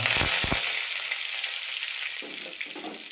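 Garlic and curry leaves drop into hot oil already crackling with mustard seeds, an initial burst of loud sizzle that settles into a steady close hiss.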